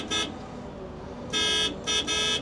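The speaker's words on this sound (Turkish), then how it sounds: "Bu kadar büyük bir aletin böyle kornası olması enteresan." Horn of a 270-ton mobile crane sounds three times, one short toot followed after a pause by two longer blasts, bright and close over a low idling hum.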